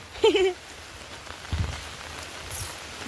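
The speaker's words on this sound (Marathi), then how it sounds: "कालपासून एवढा पाऊस पडतोय" Rain falls softly on surfaces outdoors in a village in Sawantwadi, making a faint, steady patter. A brief tonal sound rises near the start, and a few small knocks follow.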